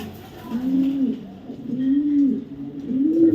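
A light-coloured female racing pigeon cooing close by, three rolling, moderately loud coos in a slow, even rhythm with short pauses between them.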